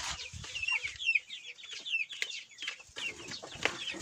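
Two-month-old Livenskaya chickens cluck and chirp close by in a coop, a busy overlapping chorus of short calls with no talking.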